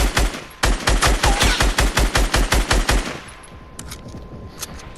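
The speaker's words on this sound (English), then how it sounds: "The second option is just to shoot his whole base down entirely." Rapid automatic gunfire in Fortnite, a loud close burst of about fifteen evenly spaced shots shredding a player's base, then a few faint scattered pops.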